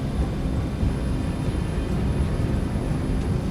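Pan Am airliner taxiing off a fog-covered runway, a steady broadband engine rumble and roar holding at an even level throughout with no voices.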